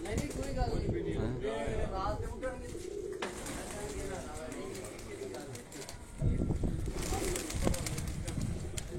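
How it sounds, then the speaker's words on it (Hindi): Pigeons coo on a rooftop under fairly steady wind noise, with someone talking over them and some brief wing flutters and knocks. "बल्लब भेजते उत्थे उड्डे ने ना कबूतर, बच्चे उड्डे ने ना।"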